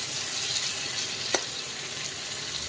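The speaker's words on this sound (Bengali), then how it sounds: "এইদিকে একটু উচ্ছে আলু ভাজা বসিয়ে দিয়েছি" Bitter gourd and potato pieces frying in a pan give a soft, even sizzle that runs the whole time. One brief clink of a utensil breaks through near the middle, and no one speaks.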